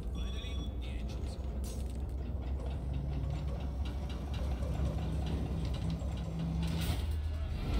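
Boat engines start up in the Hitman 2 video game, a steady low mechanical rumble and drone running throughout, with a voice speaking over the engine noise.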